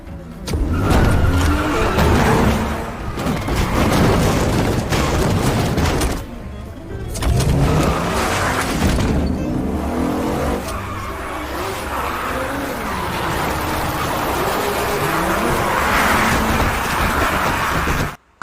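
Car tearing away at speed in a zombie-film chase through a ruined Korean city, engine roaring loud and continuous with tyre skids and crashes over dense action music, a brief drop near the middle.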